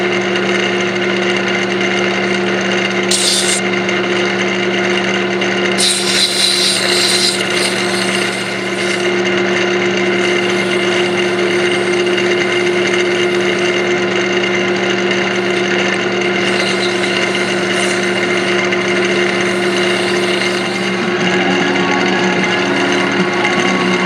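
A steady mechanical whir from a spinning lathe-type machine while a duck call barrel is wet sanded, with a constant hum and occasional brief scratchy bursts, running continuously and fairly loud.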